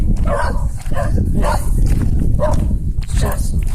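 Several dogs barking repeatedly in short bursts, fairly close, with footsteps and background noise mixed in.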